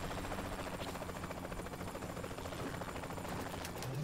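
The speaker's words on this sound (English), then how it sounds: "Where's that guy in the helicopter going?" A video game helicopter churns with a steady, close rotor chop that fills the whole stretch at an even level, with no voices over it.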